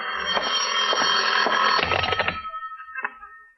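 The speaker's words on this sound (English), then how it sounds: "Your phone, John. Answer it" An old-fashioned telephone bell rings in a radio drama, a loud continuous metallic trill that breaks into a few rapid decaying rings and then fades out.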